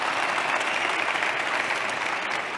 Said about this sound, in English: can you just give a round of applause for that?